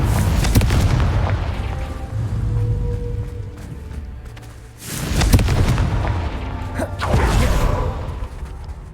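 Confringo spell blasts in Hogwarts Legacy go off as heavy booming explosions with whooshing bursts, three big hits spaced a few seconds apart over rumbling game ambience.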